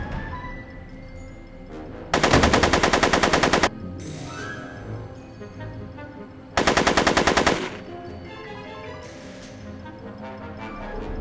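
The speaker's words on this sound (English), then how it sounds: "So... I'm afraid I'm finding it difficult to concentrate with all the bullets flying around my head, Mr. Corleone." Machine-gun fire in Back to the Future: The Game, a video game: two loud, sustained rattling bursts of rapid shots, each lasting about one to two seconds, over a low background of game sound.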